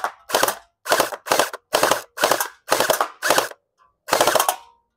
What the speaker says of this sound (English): So it is shooting full auto.